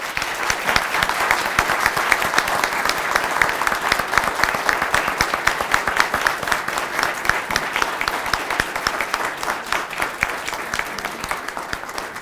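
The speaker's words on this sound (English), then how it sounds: "So please join me one last time in honoring Professor McCready with applause" Sustained, even applause from a lecture audience honoring a university professor at an annual research lecture, dense and continuous throughout with no talking over it.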